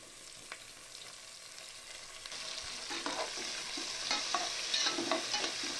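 Onions frying in a pan for kozhi kulambu are stirred with a spoon, producing repeated scraping strokes over a steady sizzle. The stirring grows louder and busier in the second half, with no talking.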